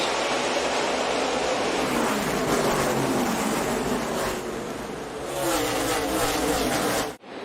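A dense roar of many engines fills the air, loud and continuous, swelling and surging together as a pack of Xfinity Series race cars accelerates away at the start of a night race at Bristol.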